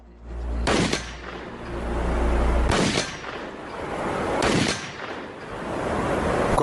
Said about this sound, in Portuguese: Vamos dar alguns tiros aqui e ver qual a velocidade da munição.